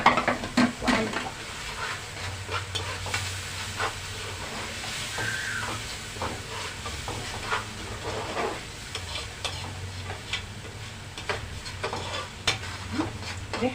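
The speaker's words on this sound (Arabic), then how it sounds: "وقلب بقى" Spoon stirring a pot of stuffed cabbage filling with a blend of seven home-made spices, with faint sizzling and scraping scrapes repeating steadily at close range, fairly quiet and alone with no talk.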